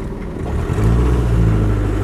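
A Land Rover 90 hardtop with a 2.5 litre diesel engine runs close by, a steady low rumble that builds slightly in loudness partway through and then holds an even idle-like drone.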